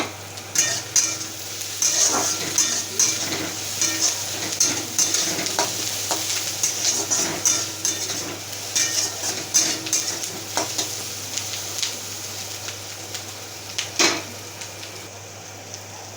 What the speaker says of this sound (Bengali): অল্প তেল দিতে হবে। কটা কারি পাতা দিয়ে দিচ্ছি